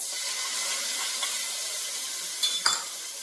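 Mustard seed tempering poured into a dish, a steady bright hiss of hot oil with a brief sharp sizzle and clink near the end, close and even, no voices.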